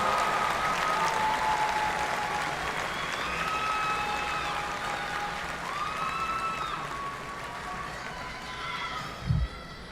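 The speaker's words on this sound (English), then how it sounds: "How about a big another round of applause?" Sustained applause from a large crowd at a university commencement ceremony, steady and fairly loud throughout, with a few faint shouts and whistles riding on top and a brief thump near the end.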